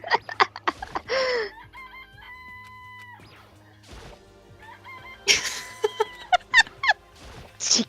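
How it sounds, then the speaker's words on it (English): Chicken clucking and rooster crowing from the Danganronpa video game, loud and close, with bursts of squawks and clucks around longer drawn-out crowing calls and electronic tones, no talking. "I just love the chicken"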